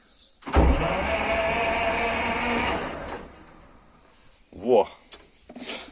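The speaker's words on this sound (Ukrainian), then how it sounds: "зараз просто крутю стартером" SMD-18 tractor diesel engine cranked by its starter with the decompressor engaged, a loud steady whirring grind for about two and a half seconds that then stops, followed by brief clunks and a short burst.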